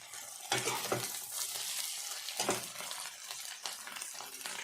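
Bottle gourd kofta curry being stirred in a frying pan, a steady close sizzle broken by a few louder scraping strokes of the spoon, with no talking.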